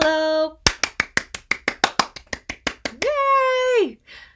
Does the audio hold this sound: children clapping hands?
yes